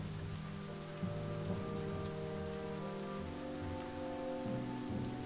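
Steady rain falling over a bog in The Banner Saga 2, a dense hiss of drops beneath sustained low musical tones, constant and fairly quiet.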